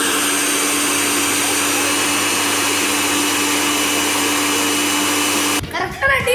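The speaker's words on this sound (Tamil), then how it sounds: "கரெக்டா டிவி பார்க்கும்போது சட்னியான அரைப்பீங்களாமா?" A mixer grinder blending chutney runs as a loud, steady, high-pitched whine with a constant motor drone, then cuts off abruptly near the end, leaving brief rustling and clatter.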